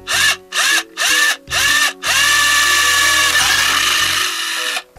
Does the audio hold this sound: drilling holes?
yes